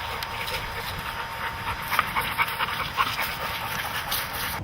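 Hunting dogs out for a workout near the end of hunting season pant rapidly and steadily close by, with a few small whimpers mixed into the breathing.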